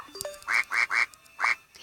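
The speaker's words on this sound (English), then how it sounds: "I'm going to play with the duck again." Cartoon duck quacking in the Bird Climb video game, four loud nasal quacks in a quick uneven rhythm, preceded by short rising chirp and whistle tones, with no talk over them.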